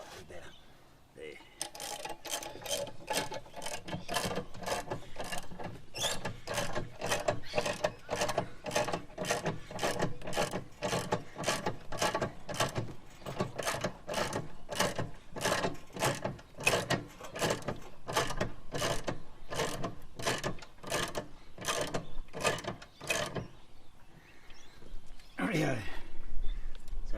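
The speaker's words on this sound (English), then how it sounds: "I put the spanner in there and I turn it anti-clockwise" Spanner turning the adjuster nuts on a Harley rear shock, a long run of evenly spaced ratcheting clicks, close and steady, followed by a brief pause and a louder scrape at the end, with some speech alongside.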